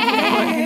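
Young goats bleat in a German fairy tale about the wolf and the seven young goats, a brief, loud, wavering cry heard alone and close.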